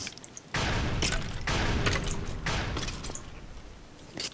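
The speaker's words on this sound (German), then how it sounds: "Also wieso gibt es Explosionen, wenn die Skelette sterben?" Explosion bursts from skeletons dying to the Aerial Faith Blade in a modded Minecraft game, several loud broad booming blasts in quick succession, each cutting off sharply.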